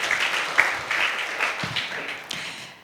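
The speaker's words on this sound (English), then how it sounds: "Can we have a round of applause for her, please?" A short burst of applause from a crowd, steady clapping that fades out toward the end.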